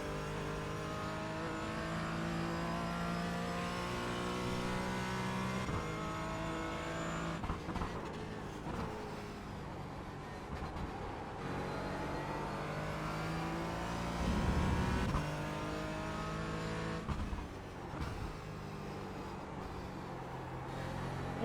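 A Porsche Cayman GT4 lapping Watkins Glen, its engine droning and revving through the gears with pitch rising and falling as it accelerates and lifts, heard steadily from on board with a brief louder surge midway.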